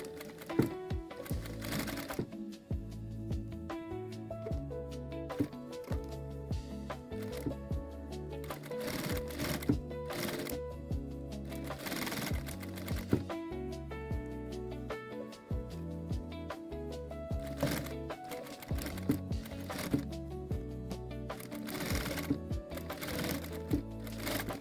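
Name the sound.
sewing machine stitching a jacket seam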